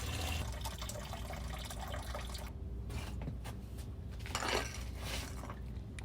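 Coolant drains from the cooling system of a BMW E36 during a coolant flush, a steady splashing, trickling stream of liquid heard up close with a brief louder gush partway through.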